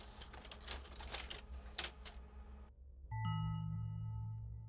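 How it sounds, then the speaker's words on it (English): Haunted printer printing as a sound anomaly in a ghost-hunting video game: after a stretch of rapid clacking, a sustained mechanical drone with a layered whine starts abruptly and carries on loud and steady. "A haunted printer."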